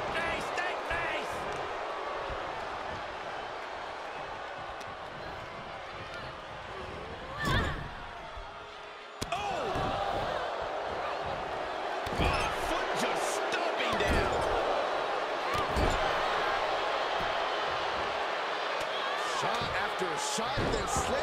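Wrestling impacts from WWE 2K23 as a wrestler is slammed face down, with a sharp thud near the middle and more hits later, all under steady arena crowd noise and commentary voices.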